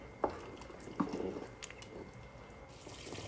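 A spiced sauce of chicken wings with half a stock cube for berkoukes simmers quietly in a pot, with a few soft bubbling pops and wet blips over a faint low background.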